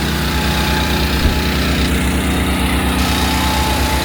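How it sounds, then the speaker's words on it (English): A pony motor on a heavy haul trailer chugs steadily, a loud, continuous small-engine drone with a low rhythmic throb and no pause, close by. "So that'll kind of crank the pony motor up and flip the box."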